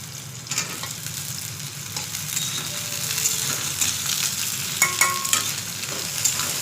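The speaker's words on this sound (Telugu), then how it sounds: "ఉల్లిగడ్డలు వేసుకోవాలా, కరివేపాకు పచ్చిమిర్చి వేసుకోవాలి." Onions, curry leaves and green chillies fry in hot oil, a loud close sizzle with brisk stirring scrapes and a few sharp clicks of a spoon against the pan, with no talking.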